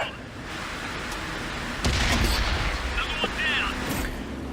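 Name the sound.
tank cannon shot in a tank battle video game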